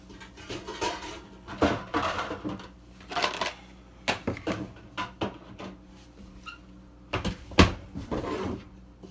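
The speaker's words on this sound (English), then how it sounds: "So the first thing we need to do is peel and slice some apples" Knife slicing peeled apples on a cutting board for an apple pie, irregular sharp chopping knocks in small bursts with quiet gaps between, close and clear.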